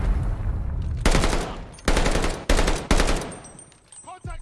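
Loud gunfire rips through a Call of Duty: Vanguard campaign battle, three or four heavy bursts in quick succession with ringing decay, trailing off into whistling and battlefield noise.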